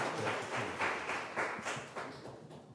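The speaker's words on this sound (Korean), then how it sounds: "여러분 다시 한번 뜨거운 박수 부탁드립니다." Audience at a DMZ international peace symposium applauds, a dense patter of many hands clapping, moderately loud, rising and then thinning out over a few seconds.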